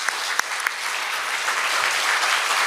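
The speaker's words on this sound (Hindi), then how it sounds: "एक बार और जोर से ताली बजाओ।" Students at a congregation clap together in sustained applause, steady and fairly loud throughout, with a few sharper claps standing out near the start.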